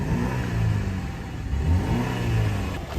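A 300-horsepower BMW engine revs and accelerates, heard from inside the car with a mid-pitched growl that rises and falls in a couple of swells, loud and close.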